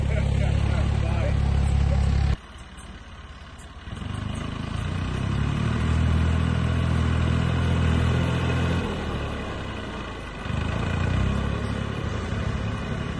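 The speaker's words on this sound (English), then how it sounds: "The tractor's just about done with this first run of the field." A tractor engine rumbles while working a field, a low steady drone that drops away briefly and then returns, with a person talking over it for most of the time.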